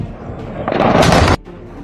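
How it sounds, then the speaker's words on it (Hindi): Missile strikes and explosions from a news report on India's attack on Pakistan: a loud, broadband blast that swells and rumbles for about half a second, then cuts off sharply into quieter background noise. "मिसाइलों की आवाज और धमाके की ये तस्वीरें बहुत कुछ कह रही हैं"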